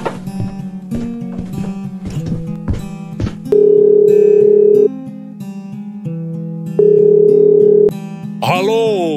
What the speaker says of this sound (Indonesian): Ayo kita telepon sekarang.